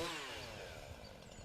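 A Jonsered chainsaw engine revs up with the throttle, starting high and loud, then settling into a rough, buzzing two-stroke drone for a moment.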